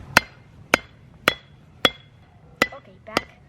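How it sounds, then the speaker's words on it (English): Hot metal struck with a hammer at a forge, six sharp ringing blows at a steady rhythm about half a second apart, close and clear, with faint voices murmuring between strikes. "All right, hammer away"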